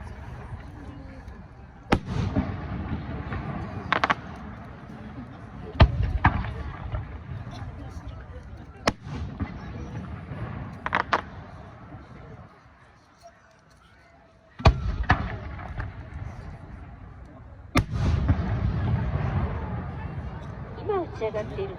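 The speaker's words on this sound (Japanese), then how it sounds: "今打ち上がっているのはカブロギクという花火です。" Kaburogiku fireworks bursting over the Aioi Peron festival, with repeated sharp booms and crackling at irregular intervals amid a steady crowd murmur and a brief lull partway through.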